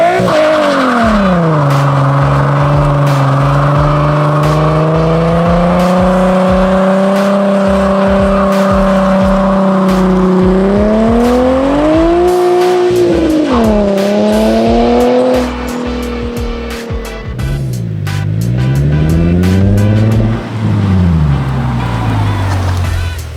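Nissan 350Z with a custom dual valved X-pipe exhaust and a freshly rebuilt gearbox, revving hard and accelerating through several gears, loud and close with rising engine tone, shifts and brief tire squeal.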